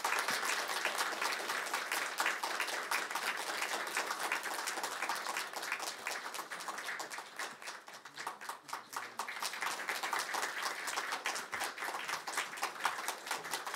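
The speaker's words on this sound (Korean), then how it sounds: "박수 부탁드립니다." A church congregation gives a long round of applause during Sunday worship after Bible study graduates receive certificates, steady and fairly faint, dipping briefly midway before picking back up.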